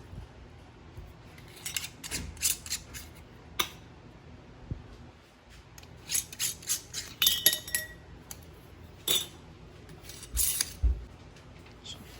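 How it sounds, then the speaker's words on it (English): Metal screw bands are twisted off home-canned cucumber relish jars, giving scattered light metallic clinks, scrapes and taps at close range, spaced irregularly with brief quiet gaps between and no talking. "So now I'm just gonna take the rings off of all the jars."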